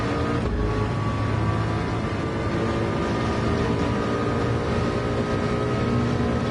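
A Le Mans race car in a VR racing game roars at full throttle, its engine a loud, dense, steady drone blasting down the straight for several seconds.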